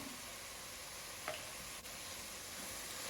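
Ivy gourd curry fries in a pan with a steady, quiet sizzle that holds throughout, broken by a brief stir or scrape.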